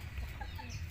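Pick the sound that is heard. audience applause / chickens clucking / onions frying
chickens clucking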